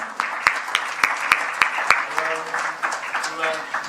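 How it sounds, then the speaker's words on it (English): A crowd claps steadily, with a few sharp individual claps standing out near the start, the applause continuing with a murmur underneath. "Please, a round of applause."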